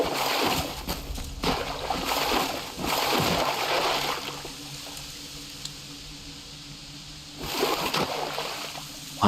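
Flowing water feature in the Hytale video game, a steady wash of splashing and sloshing water that swells loudly in the opening seconds, settles to a softer rush, then surges again near the end.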